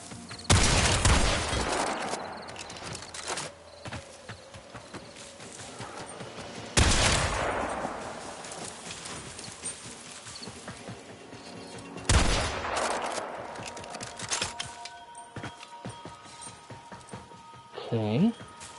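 Volleys of gunfire in the video game Warframe arrive in three loud bursts spaced a few seconds apart, with quieter game sounds between them and a person talking over part of it.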